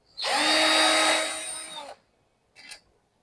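Power tool unscrewing nuts on a 60V 150Ah battery pack, one loud close whirring run of under two seconds that stops abruptly, followed by a short faint rattle.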